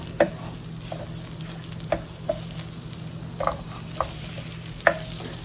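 An egg cooking in a Little Mac Fast Cooker, with a steady low hum and faint sizzle broken by light scattered clicks and taps, close and quiet, no voices.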